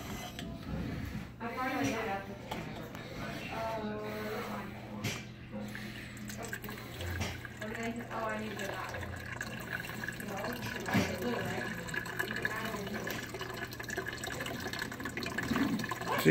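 Water pouring into a coffee maker's water tank, a continuous trickling fill under people talking nearby.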